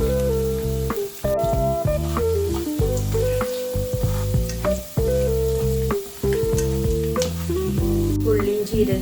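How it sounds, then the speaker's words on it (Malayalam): Cumin and fennel seeds with dried chilli frying in hot oil for a tempering, a loud continuous crackle and sizzle with stirring clatters and brief dips, no talk. "ജീരകമൊക്കെ നന്നായി മൂത്ത് വന്നിട്ടുണ്ട്"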